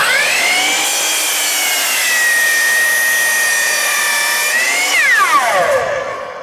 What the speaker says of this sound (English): Let me just show you what happens when we either trim the end of a long board or we're trying to actually make small slices of something.